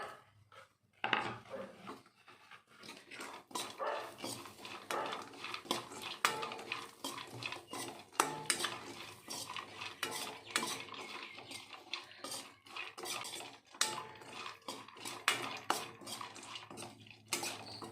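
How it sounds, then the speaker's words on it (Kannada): Raisins, cashews and almonds stirred and fried in a pan for a dry fruit ladu, with steady clinks and scrapes of a spoon against metal and a soft sizzle running underneath, no voices. "ತಿರುಗಿಸ್ತಾ ಚೆನ್ನಾಗಿ ಫ್ರೈ ಮಾಡಬೇಕು."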